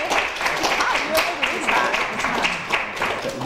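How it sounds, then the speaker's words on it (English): An audience at a political discussion event applauds, a moderate spread of clapping mixed with scattered voices and murmurs from the room underneath. "How about a round of applause?"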